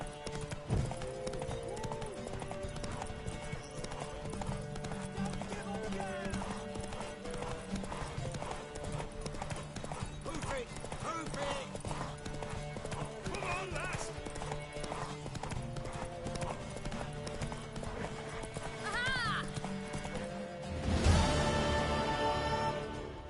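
Horse hooves clip-clop steadily throughout, with a short whinny near the end, set against layered sound effects and music from The Witcher video game.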